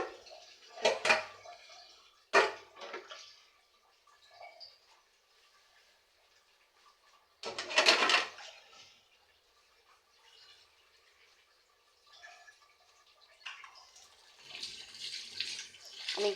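Plates and bowls being washed under a running kitchen tap, with bursts of splashing water and clinking dishes separated by quieter dripping and faint handling sounds, fairly close and without talk.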